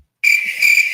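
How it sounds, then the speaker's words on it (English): A cricket chirps loudly and close, a sustained shrill trill that starts abruptly after a brief silence and carries on steadily. "Cricket."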